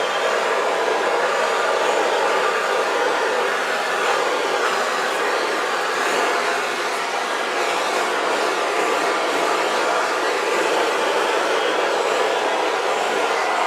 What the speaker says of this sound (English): torch to release the bubbles caught in the paint